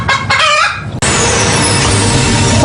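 A rooster crows loudly and close, with clucking mixed in, then breaks off abruptly into a dense, noisy barnyard-like background.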